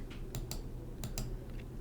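Clattering keystrokes on a computer keyboard, a few quick scattered taps in small bursts, faint and close, with no voice.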